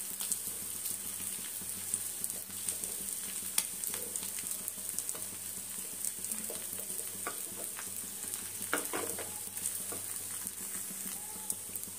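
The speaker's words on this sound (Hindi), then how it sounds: "ब्रेड को आप घी में ही फ्राई करें।" Slices of bread fry in ghee in a pan with a soft, continuous sizzle and scattered small crackles and pops, fairly quiet and close.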